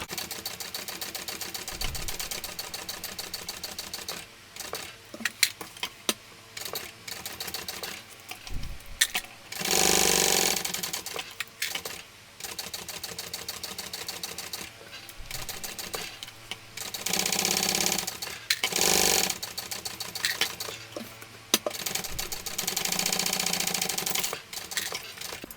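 A sewing machine stitches a seam on a shoulder bag, including a few back stitches, in bursts of steady mechanical whirring separated by short pauses and clicks, close and fairly quiet.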